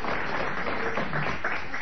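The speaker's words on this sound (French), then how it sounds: "merci d'avoir applaudi à ces paroles définitives" A studio audience applauds at a French comedy talk show, a steady, even wash of clapping that fills the whole moment at moderate loudness.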